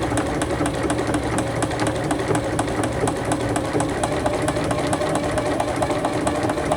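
A Juki HZL F300 sewing machine with a leveling foot stitches through thick fabric, giving a steady, even mechanical whir with fast regular needle clatter that runs unbroken and close throughout.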